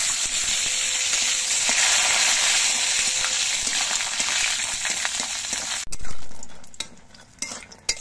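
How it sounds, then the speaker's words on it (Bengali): Lentil dumplings (bori) fry in hot mustard oil in a kadai, a steady close sizzle that runs for about six seconds before breaking into softer stirring crackles and scrapes. "এবার তেলের মধ্যে ডালের বড়িগুলো দিয়ে ভেজে নিচ্ছি।"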